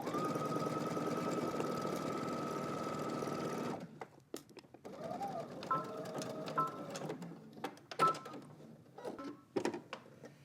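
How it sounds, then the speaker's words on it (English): A sewing machine runs a steady, loud whirring stitch for about four seconds as a garment seam is sewn with a backstitch, then stops, leaving softer handling clicks and fabric rustles. "we're gonna stitch from the bottom up to where that notch is. We're gonna back stitch and stop"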